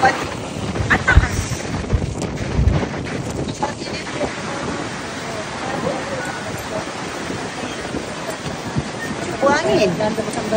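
Gusty wind in a Tokyo street buffets the microphone with loud rumbling bursts that rise and fall, while people talk nearby.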